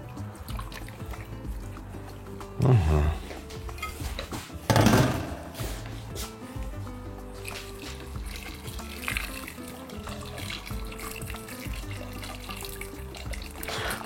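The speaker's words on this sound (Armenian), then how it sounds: "Հետո նոր լցնում ենք ջուրը այնքան, որ քարաչիկները ծածկվեն" Water trickling and splashing into a vessel of wheat grains, with two louder pours standing out, then quieter dribbling and small clinks.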